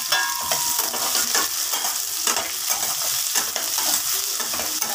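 Ingredients for a karela and bhindi dish sizzle and fry steadily in a hot pan, with crackling spatter and occasional stirring scrapes, loud and close with no talking.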